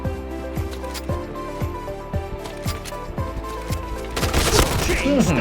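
Rapid gunfire from the online shooter Point Blank, a steady stream of regular shots under game music, ending in a loud chaotic barrage with explosions, with a voice talking over the action.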